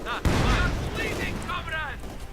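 Mortar and gunfire in the Company of Heroes 2 strategy game give a sharp boom followed by a rumbling battle din, heard under a commentator's steady talk.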